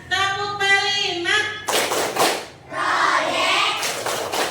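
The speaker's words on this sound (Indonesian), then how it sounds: "Coba ayo semangat ya. Tepuk P5." Children chant the rhythmic Tepuk P5 classroom clap routine together, with sung voices at first and then bursts of loud, close hand claps and shouts.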